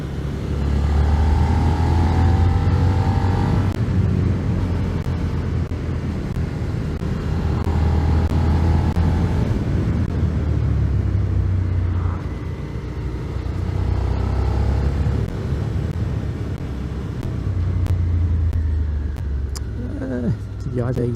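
A Suzuki SV650 motorcycle rides on a road, its engine droning at moderate revs as it accelerates gently in a few smooth surges under wind rumble. A rider talks over it throughout.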